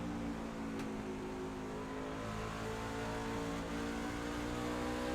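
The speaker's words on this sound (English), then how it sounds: "You can hear him get off that throttle, get back in the throttle" A race car on track eases off the throttle and then gets back on it, its engine note dipping and rising again, heard faintly and at a distance as a steady drone.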